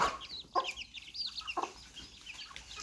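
Chickens clucking close by as they are fed in the evening, a busy run of short overlapping clucks and chirps with a couple of louder squawks.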